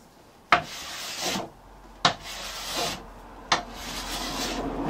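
Hand plane taking fine shavings along a wooden board while flattening a cabinet part, three rhythmic strokes, each a sharp initial bite followed by a smooth, rasping hiss that fades as the plane runs through, close and distinct.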